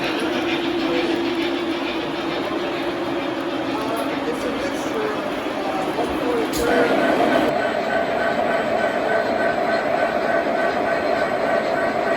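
A milk train rumbles past with steady rolling noise and a rising tonal whine, people talking over it.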